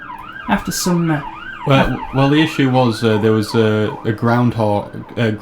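Police car sirens wail faintly in the background, rising and falling beneath a man's steady, close-up speech that runs through the whole stretch.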